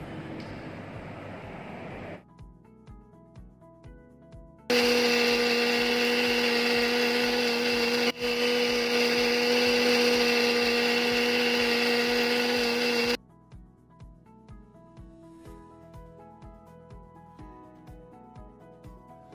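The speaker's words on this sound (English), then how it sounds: "For filtration purpose, we are using suction pump to filter out the product." A suction pump runs during laboratory filtration of phenyl azo 2-naphthol. It gives a loud, steady motorized drone for about eight seconds, with softer intermittent clicking before and after.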